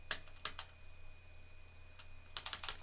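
Typing on the heavy, mechanical-feeling keyboard of a Star Trek ThinkPad laptop: a few sharp clicky keystrokes near the start, a pause, then a quick cluster of presses at the end, close and quiet over a faint hum.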